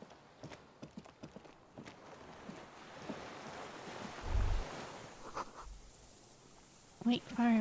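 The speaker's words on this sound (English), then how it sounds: "Water rushes." Rushing water in Disco Elysium: a soft, continuous wash of water swells and recedes, with scattered light knocks, and voices talk faintly over it.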